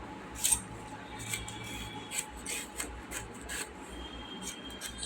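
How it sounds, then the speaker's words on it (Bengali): A knife slicing pointed gourd (potol) for a prawn dish in a home kitchen, heard as faint, irregular cutting and scraping ticks close by against quiet room hum, with no talk. "পটল চিংড়ি তার জন্য দেখো কেটে নিচ্ছে আনাজটা পটলটা"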